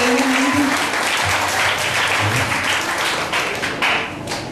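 A church congregation bursts into loud, sustained applause at a Sunday service, the dense clapping filling the room steadily for several seconds.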